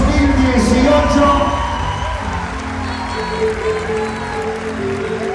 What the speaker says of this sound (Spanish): Y ahora sí, el aplauso en general para los flamantes egresados